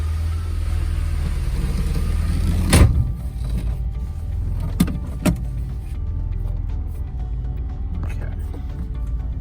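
Inside a 1981 DeLorean DMC-12 on a test drive, a low engine drone runs steadily, broken by a few sharp clicks or thumps, with people talking over it.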